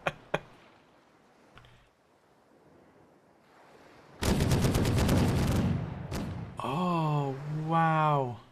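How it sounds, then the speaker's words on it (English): A rapid burst of machine gun fire in the naval video game Caribbean!, loud and dense for about a second and a half, followed by a sharp crack and voices shouting. "Sounds like a machine gun going off."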